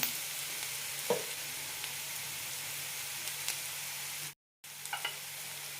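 Sliced onions sauté with salt, mint leaves, slit green chilies and curry leaves for egg kurma, giving a soft, even sizzle with occasional light stirring taps and a brief silent gap.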